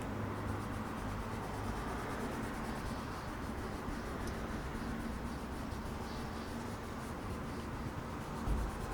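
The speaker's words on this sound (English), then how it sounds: "Now let's erase the pencil." Eraser rubbing out pencil lines on a paper drawing, a soft continuous scrubbing texture, close and faint, steady throughout with no speech.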